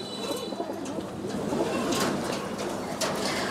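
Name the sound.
Giribaz pigeons cooing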